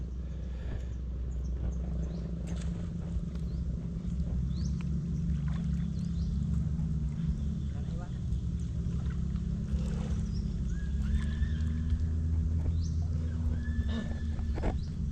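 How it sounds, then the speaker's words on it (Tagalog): A small boat's engine runs steadily on the water during an oyster-gathering trip, a low rumbling drone that persists throughout with scattered splashes and clatter on top. "Bubuhay pa yung makina."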